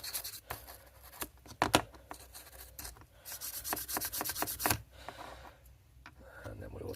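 Stiff brush scrubbing the pivot areas of a Victorinox German Army Knife 0.8770.04 during restoration, a close series of short, irregular rasping strokes that come and go over several seconds.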